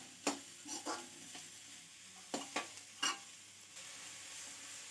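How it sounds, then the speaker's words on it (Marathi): Vegetables for veg Chinese noodles are stirred in a pan. A handful of distinct scraping strokes rise above a low, steady sizzle, fairly close and with no talking. "हे सगळे व्यवस्थित मिक्स करून घेऊया"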